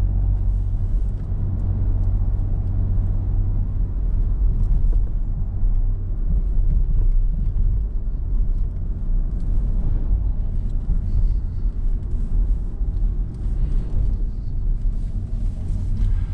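A car picks up speed on a road during a driving lesson, its engine a steady low rumble that stays loud and close throughout, with no talking.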